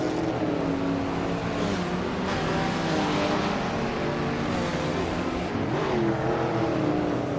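Race cars roar through a racing video game, among them a 1973 Mazda RX-3 GT, their engines a steady, dense drone with shifting pitch and passing swells running unbroken throughout.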